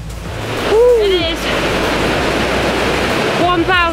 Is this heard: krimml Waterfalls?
yes